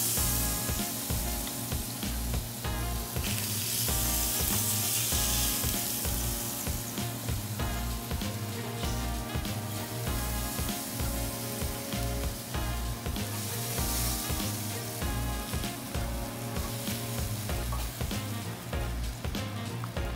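Seared lamb chops in a pan, giving a dense, continuous loud sizzle with spitting hiss that holds steady throughout, heard close up.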